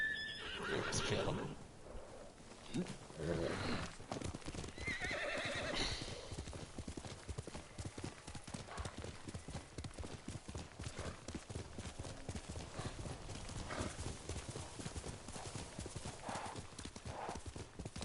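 Horse hooves clip-clop steadily through most of the stretch in Ghost of Tsushima, with a neigh near the start and soft game ambience underneath; no one speaks.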